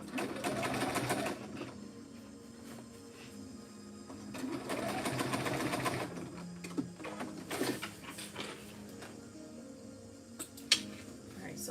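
A sewing machine stitches a bag in several bursts of rapid mechanical whirring, separated by quieter pauses with handling clicks and a sharp tap near the end, fairly close and moderately quiet.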